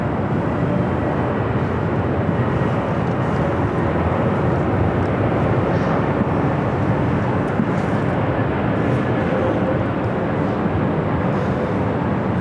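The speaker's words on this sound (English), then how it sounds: "Delta 767 to 300ER heading to Honolulu, flight 485." Steady, loud engine roar of a Delta Boeing 767-300ER departing LAX for Honolulu, a dense, unbroken jet rumble lasting the whole stretch with no voices.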